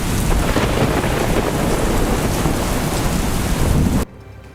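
Heavy downpour with thunder over Gujarat: a dense, loud, continuous roar of rain mixed with deep rumbling that cuts off abruptly near the end, leaving near silence.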